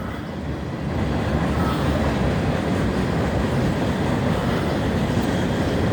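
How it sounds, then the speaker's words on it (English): A passing train rumbles loud and steady through the Oregon District beside a sandwich shop, its broad roar swelling slightly after the first second and holding with no voices. "that train is kind of noisy, ain't it?"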